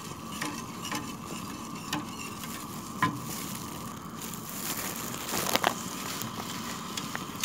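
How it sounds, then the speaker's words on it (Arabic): A spoon stirs hot chocolate milk, made from milk and cocoa, in a pot on the stove as it heats toward a boil, with soft continuous scraping and gentle sizzling, fairly quiet, and a few sharper clinks along the way. "هفضل بقى ادور كده لغايه اما اوصل لمرحله الغليان"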